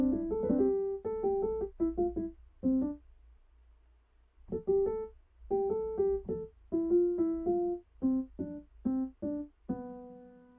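Soft piano synth keys in FL Studio playing a short pattern of repeated chords, clean and moderately quiet, in phrases separated by a brief pause, with no other sounds.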